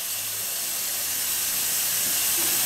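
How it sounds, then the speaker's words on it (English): Hot tap water runs from a kitchen faucet into the sink with a steady, loud, hissing rush that goes on unbroken. "Turn on the tap water"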